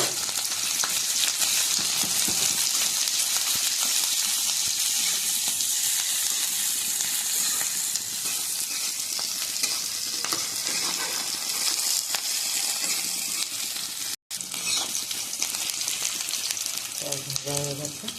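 Chopped onion, chili and garlic sizzle loudly and steadily in hot oil in a pan, a dense continuous frying hiss with occasional stirring that carries on without a break, and a brief voice near the end.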